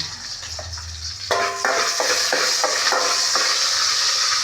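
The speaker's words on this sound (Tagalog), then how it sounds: "Ilagay na natin ang ating sibuyas, bawang. Gigisa natin. Kasi gisa natin yung chicken." Chicken with onion and garlic hits a hot pan partway through, setting off a loud, steady sizzle and frying crackle with occasional stirring scrapes, close up and with no talking.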